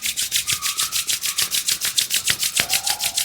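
Two palms rubbed briskly together in a morning yoga session, a close, steady back-and-forth swish repeating about six times per second with no voices.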